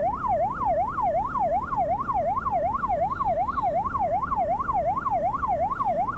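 An ambulance siren wails in a fast, regular up-and-down yelp, sustained and steady over low road traffic rumble, moderately loud and somewhat distant on a Malaysian road.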